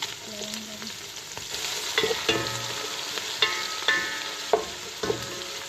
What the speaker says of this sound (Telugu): ముందుగా ఆయిల్ వేసి కాస్త కరివేపాకు, carrot, small onion, biryani mixing